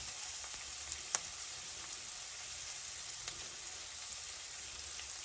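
Liver browning in olive oil in a pan, giving a steady, quiet sizzle and crackle with a few small pops, heard close and alone.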